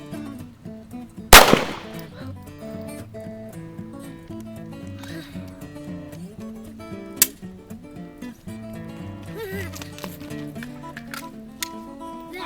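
A single pistol shot cracks out sharply and loudly near the start, standing out over steady background music.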